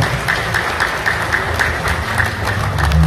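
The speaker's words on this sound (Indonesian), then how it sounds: "Tepuk tangan untuk Pak Andoko." Indoor audience applause at a kidney-failure testimonial gathering, a dense steady wash of hand claps at moderate loudness for the whole stretch, with faint background noise beneath it.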